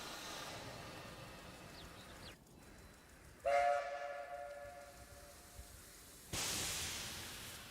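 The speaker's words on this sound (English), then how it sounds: "The train is rather loud," A loud train passing in the video game Book of Travels, a broad rumbling roar with horn-like tones that swells in bursts over several seconds, heard alone without talk.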